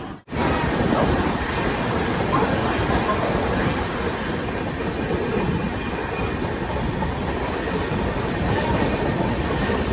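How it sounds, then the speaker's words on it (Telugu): The Visakha Express runs past Tuni with a loud, continuous rumble and dense rattle of wheels and carriages, heard close and steady throughout without voices. "మన ట్రైను ఇప్పుడే తుని దాటిందండి"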